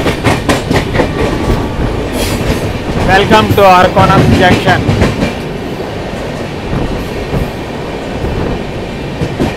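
A double decker train arrives at Arakkonam junction with loud, close rumbling and clickety-clack, a rising wheel squeal in the middle, while someone speaks over it.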